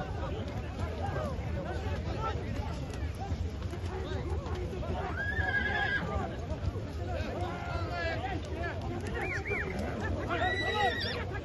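Horses neigh several times through an ulak (kok-boru) game in Osh, Kyrgyzstan, their whinnies rising over a dense rumble of hooves and crowd babble, and people talk throughout.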